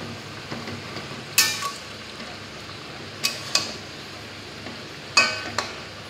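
Partly cooked vegetables with green chillies being stirred in a pan over a steady low sizzle, with a few sharp utensil clinks against the pan spaced a second or two apart.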